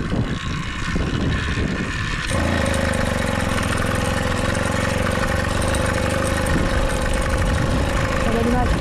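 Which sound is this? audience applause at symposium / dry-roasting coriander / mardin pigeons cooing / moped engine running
moped engine running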